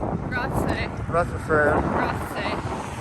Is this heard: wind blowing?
yes